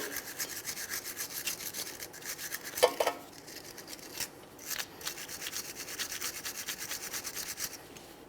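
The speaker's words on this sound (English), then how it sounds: "Use a wire brush, some sandpaper," A wire brush scrubs the groove of a brake backing plate on a 1994-2001 Dodge Ram 1500, making a steady close scratching rasp in rapid strokes with a brief pause midway.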